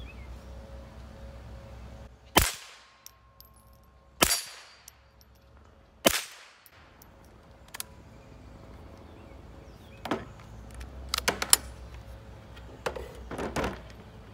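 .22 rimfire rifle firing standard velocity solid point rounds unsuppressed, three sharp loud cracks evenly spaced about two seconds apart, followed by quieter clicks and handling clatter.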